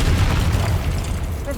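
A Confringo fire spell bursts in Hogwarts Legacy, a dense low boom rumbling steadily through the short moment, loud and close with a busy noisy wash above.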